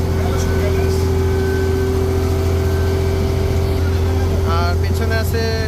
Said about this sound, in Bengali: ডেট্রয়েড ডিজেল ইঞ্জিন ব্যবহার করা হয়েছে